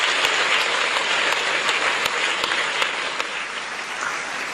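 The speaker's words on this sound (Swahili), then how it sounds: "Tuwape makofi mengi sana sana" Delegates at a SADC ministers' meeting in a large conference hall give sustained applause, a thick, even roar of many hands with a few louder individual claps standing out, easing slightly toward the end.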